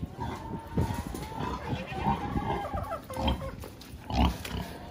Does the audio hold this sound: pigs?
yes